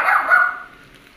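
A dog gives a single sharp bark close by, then the sound quickly fades into quiet.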